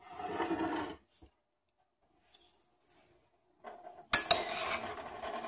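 A brief burst of scraping and clinking as mushrooms are stirred in a pot, then near silence, followed by a sharp metallic clatter of a spoon against cookware.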